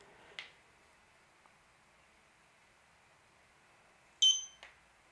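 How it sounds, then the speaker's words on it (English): A Eufy camera home base gives a short, faint electronic sync beep near the end, in a quiet indoor room with a few soft clicks before and after it. "I heard the beep."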